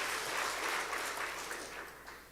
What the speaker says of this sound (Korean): 우리 격려의 박수를 한번 응원해 주시면 감사하겠습니다.